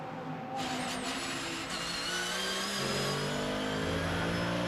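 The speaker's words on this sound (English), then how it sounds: "Real throaty noise of that Mercedes compared to the slightly higher pitched tone of the Porsche" GT racing engines roar past at the Red Bull Ring, a higher-pitched Porsche rising and sustaining while a deeper, throaty Mercedes growls underneath, loud and continuous.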